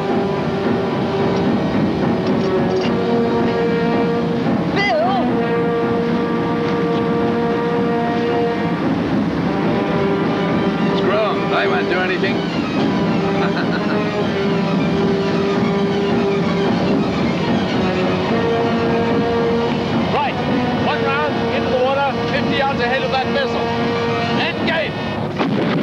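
Patrol boat engines running in a 1979 naval drama, a continuous loud droning hum with wind buffeting, while voices talk and shout over it.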